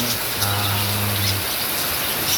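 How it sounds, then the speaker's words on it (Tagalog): Steady, dense hiss of heavy rain during a typhoon fills the clip, with a low hum fading out partway through. "Malakas na ang ulan ngayon tsaka bumabagyo."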